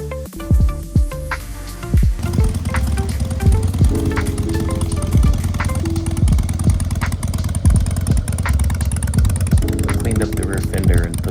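A Harley-Davidson Softail Springer FXSTS motorcycle is ridden, its V-twin engine rumbling loud and close with uneven throttle changes and steady road noise throughout.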